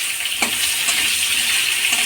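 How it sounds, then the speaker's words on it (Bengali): Potato pieces frying in oil in a pan, with steady sizzling and a couple of brief stirring clinks, close and fairly loud, no voices. "দেখুন আলুটা কি সুন্দর ভাজা হয়ে গেছে লাল লাল করে"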